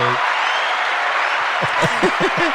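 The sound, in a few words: applause on podcast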